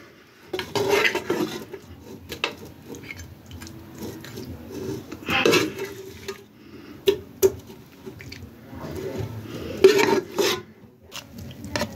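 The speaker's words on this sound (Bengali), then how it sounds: "এখন আমি মাটনগুলো দিয়ে দিব এক এক করে" Mutton pieces for kacchi biryani drop one after another into a pot with wet thuds and clanks of a utensil against metal, spaced irregularly.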